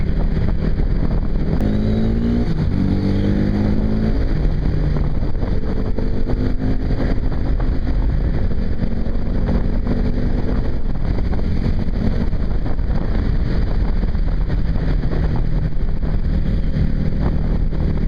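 A 2008 Yamaha WR250R motorcycle being ridden, its engine droning and rising in pitch through gear changes under loud, constant wind buffeting on the microphone.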